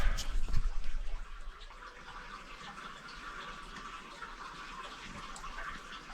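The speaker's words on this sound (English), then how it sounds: "it's just that river, I think." Steady rushing water of an underground river in a cave, a continuous broadband wash heard alone with a brief louder splash or knock at the very start, then an even, moderately distant flow.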